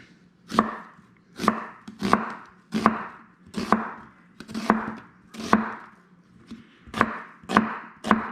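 Knife chopping onions into small pieces on a cutting board, a steady series of about a dozen firm, evenly spaced chops, close and distinct with no talking.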